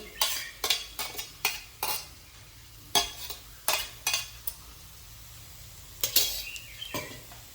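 Kanthari chicken sautéing in a pan, with a utensil scraping and clinking against the pan in irregular bursts over a faint, steady sizzle, no voices.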